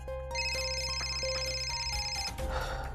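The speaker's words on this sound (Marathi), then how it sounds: "सौरभ, काही झालं तरी तुला फोन उचलावाच लागेल" An incoming video call rings on a phone in a Marathi TV serial scene: a steady, repeating electronic ringtone of bright tones, fairly loud and close. It cuts off near the end, where a brief burst of other noise follows.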